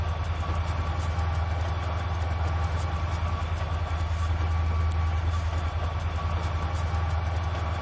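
Steady low engine drone of a train in Trainz 2019, constant and unchanging, with a faint higher hum above it and no voices.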